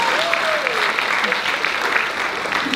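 An audience at a Chiles High School chorus concert in the Halloween 2023 season claps steadily and densely, with crowd voices mixed into the applause throughout.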